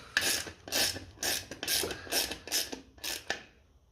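Spanner ratchet tightening the tappet cover nuts on a 1957 Ferguson FE35 TVO tractor, a series of about seven short metallic ratcheting bursts in steady rhythm, close by and fairly quiet.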